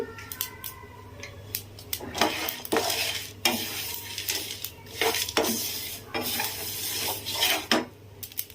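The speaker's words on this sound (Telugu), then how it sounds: "ఇదే పాన్లోకి మనం తీసుకున్న గుమ్మడి పప్పు, నువ్వులు, పల్లి, బాదం వీటిని కూడా వేయించుకోవాలి" Pumpkin seeds, sesame, peanuts and almonds roasting in a pan while being stirred, with rhythmic scraping and clinking strokes of a spoon against the pan over a soft sizzle, close and fairly quiet.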